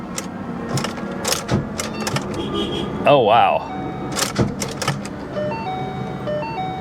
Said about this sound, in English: that is the sound of a locked up motor